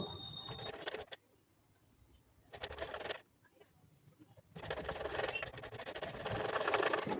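A sewing machine stitches a sleeve onto a kurti in short runs of rapid mechanical whirring, broken by quiet pauses, with faint bird cooing in the background.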